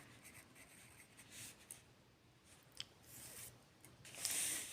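Handwriting during a maths lecture on area and perimeter, faint scratchy strokes of a pen on paper in short bursts with pauses between them.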